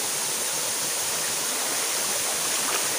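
Water rushes and roars without a break, a dense, steady hiss of Panindingan Falls and its flowing stream heard up close.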